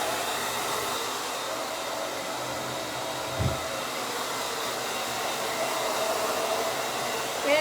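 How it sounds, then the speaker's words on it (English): Handheld hair dryer on high heat blow-drying a pixie bob, a steady loud whooshing roar that runs throughout with a brief thump partway, no talking. "So we're gonna blow dry, high heat, as fast as we can."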